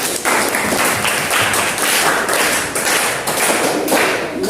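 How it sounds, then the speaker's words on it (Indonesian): Audience at a business-and-marketing teaching session breaking into applause, a dense, loud, continuous wash of clapping hands that holds steady throughout. "kita tepuk tangan"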